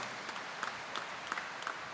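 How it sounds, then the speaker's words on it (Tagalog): Faint applause from a church congregation during a feast-day homily, a soft continuous patter of hands with a few louder claps, distant and low in level. "Kaya muli nating ibinigay sa Kanya ang pinakamalakas na palakpak para sa ating hari at tagapagligtas."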